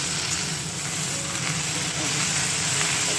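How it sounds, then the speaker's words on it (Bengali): Vegetables frying in a pan with a little oil for a home-style chorchori, a continuous close sizzle with soft stirring, steady throughout and no talking. "আর একটু ভাজা হোক"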